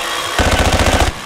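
A scorestreak turret in Call of Duty Black Ops 6 lets off a fast, close burst of about a dozen heavy, evenly spaced shots, loud and alone, then cuts off abruptly.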